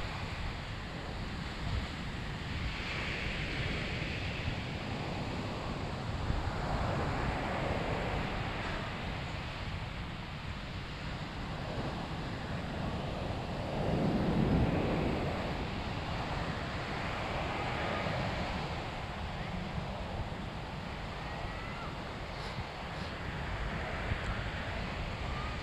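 Steady sea wind and surf on Nha Trang beach, a continuous broad wash of waves rolling in with gusty wind noise across the microphone and a slightly louder surge midway, no voices.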